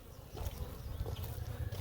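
Honeybees swarm over a hive frame during a hive split, giving a close, dense, fluctuating buzz that swells and dips without any speech.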